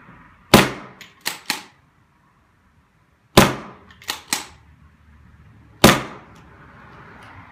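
A paintball gun fires six sharp pops in three bursts, one shot then a quick pair each time, close and loud with quiet gaps between them.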